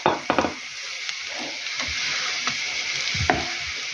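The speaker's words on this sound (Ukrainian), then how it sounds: "хай вже смажиться морква" Steady sizzling of carrots frying in a pan, with a few sharp knocks of a utensil against the pan near the start and end.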